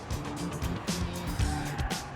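Hot hatch car engine on a racetrack, revving loudly and steadily close by, with a rough rasp and brief tyre noise, under people talking in the car.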